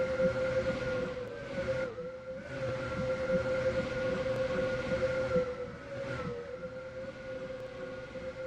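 Roblox Stepford County Railway train standing at a station platform, a steady droning tone with a sustained hum running throughout, briefly dipping in loudness around two and six seconds.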